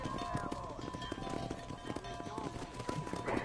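Rapid hoofbeats of a horse galloping in Red Dead Redemption on PS5, steady clip-clop under game ambience and music, fairly quiet and continuous.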